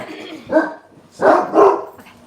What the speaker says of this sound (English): This is your nightly, your weekly trigger for dog barking.